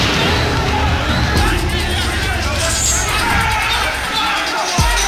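Dense, continuous crowd hubbub of yelling and screaming at an angry elephant, loud and close throughout, with scattered sharper shouts and bangs of debris being thrown.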